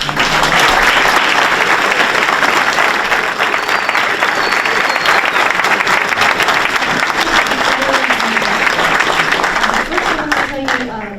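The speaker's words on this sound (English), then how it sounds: "Let's give them a round of applause." Loud, dense applause from an audience of families and friends at a board meeting rolls on without pause, many hands clapping at once, with a voice briefly emerging near the end as the clapping tapers.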